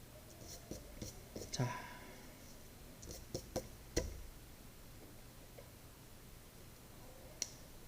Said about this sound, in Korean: 마지막이니까 지울 필요가 없으니까 색연필로 한번 그려볼게요